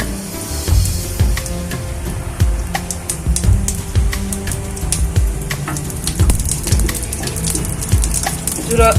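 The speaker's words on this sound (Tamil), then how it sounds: "ஜீரகம் கொஞ்சம் பொரிச்சிருச்சு." Cumin seeds splutter in hot oil alongside cinnamon, cloves, cardamom and bay leaf, making a dense, loud crackle of sharp pops that keeps going in an irregular rhythm.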